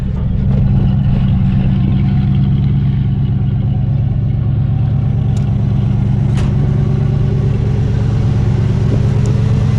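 A 4-door Jeep truck with a homemade driveshaft drives steadily, its engine a constant low drone, with faint rattles and clunks from the loose bed and old tailgate throughout.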